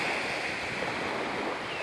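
Lake water lapping at the shore at Coronation Park in Hamilton, a steady washing rush mixed with breezy wind noise, continuous and fairly loud with no talking.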